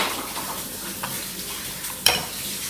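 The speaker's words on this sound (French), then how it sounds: "Donc là, on mélange bien fort, enfin pas fort pour pas que ça éclate partout" Melted chocolate cake batter stirred in a bowl with a utensil, soft scraping and swishing, close and fairly quiet, with a sharp clink of the utensil against the bowl near the end.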